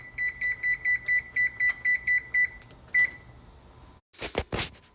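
A kitchen oven timer beeps in a fast, even series of about nine short tones, close and clear, after sugar cookies go into an oven preheated to 350 degrees, followed by a few clunks and rustles.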